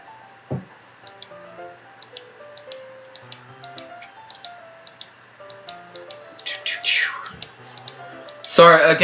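Soft, light clicks tick through a visual novel game in a steady sparse rhythm, close and quiet, set over gentle background music with a brief thump and a louder burst near the end.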